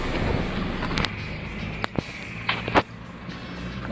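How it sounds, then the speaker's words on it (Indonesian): A 2007 Honda Jazz iDSI 1500cc engine idles smoothly and steadily under an open hood, a low constant hum with a few brief knocks and clicks over it. "Nah, ini suara mesinnya itu sangat lembut sekali,"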